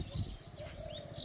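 A dove coos softly from a rice field beside a railway line, a short low hollow call over quiet open-air ambience with faint bird chirps.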